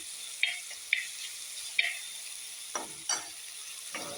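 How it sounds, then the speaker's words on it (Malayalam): Green chillies sauté with turmeric, cumin powder and salt in a pan, giving a soft, continuous sizzle broken by a few crisp clicks and scrapes of stirring. "നല്ലതുപോലെ ഒന്ന് വഴറ്റി എടുക്കണം."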